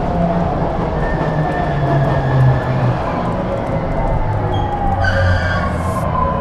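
A train runs along its track in the video game Stray, a steady rumbling rail noise with faint clatter, continuous and fairly loud throughout, with a short higher whine near the end.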